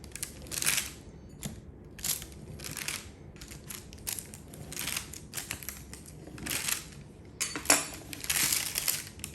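A Papa Murphy's pizza cutter rolls through keto cheese bread in a series of separate crunchy, scraping passes, irregular and fairly close, each lasting under a second.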